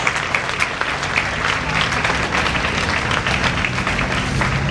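A large audience applauds UNESCO at a ceremony for a new Ghanaian museum of light and light-based technologies, a dense, steady roar of many hands clapping at close range that carries evenly from start to finish.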